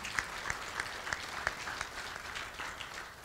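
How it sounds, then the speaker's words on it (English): Audience at a school athletic hall of fame ceremony applauding, a steady moderate patter of clapping with a few sharper claps standing out, fairly distant. "Let's give them a round of applause for the cameras."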